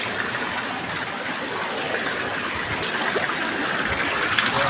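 Floodwater flows past the front of a house in a steady, rushing wash of moving water, continuous and moderately loud with no voices.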